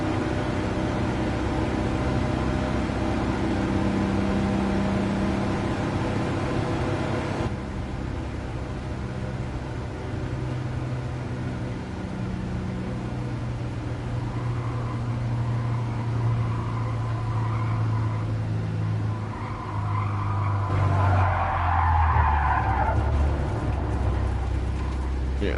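A Volkswagen Beetle runs a lap on a track, its engine droning steadily and close throughout, with a brief higher scrubbing burst near the end that could be tyres sliding.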